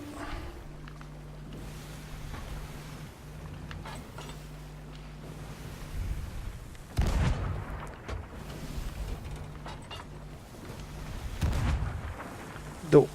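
Cannon fire in the Sea of Thieves video game during a ship battle: scattered heavy booms and a few sharp blasts over a steady creaking, humming background, mostly mid-distance, with a louder thump at the end.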